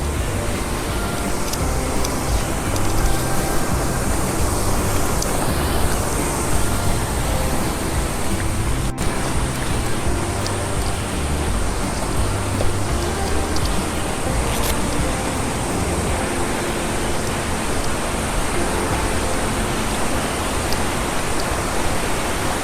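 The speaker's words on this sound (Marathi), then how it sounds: "तो धबधब्याचा आवाज खूप छान वाटतंय" Subhedar waterfall, tucked in the Sahyadri hills, roars nearby with a loud, unbroken wash of rushing water that stays constant throughout.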